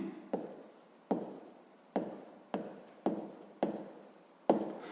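Pen or chalk writing out a sixth-grade math solution, seven sharp strokes at a steady rhythm, each start followed by a fading scratch, close and clear with no talk.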